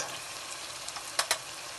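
Tomatoes frying in a pan for Punjabi dal fry, a steady soft sizzle broken by a couple of brief scraping stir clicks, close and on its own without speech.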